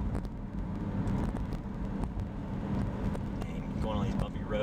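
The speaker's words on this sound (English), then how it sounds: "the only thing you're hearing is the tires going over the bumps" Steady rumble of a 2007 Honda CR-V driving over a bumpy road, with repeated thumps of the tires hitting bumps amid road and wind noise.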